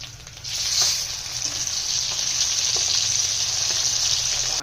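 Pabda fish fry in hot oil, a loud continuous sizzle that jumps up sharply in the first half second and then holds steady, close and alone.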